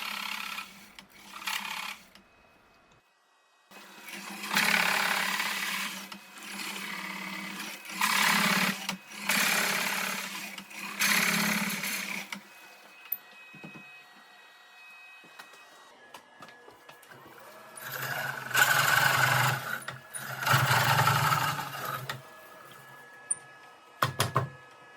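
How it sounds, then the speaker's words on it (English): Carbide Core Pro cutter coring a wood bowl on a lathe, a loud buzzing scrape in several long bursts with quieter gaps between, close and without talk. "I'm using the Core Pro carbide cutter on"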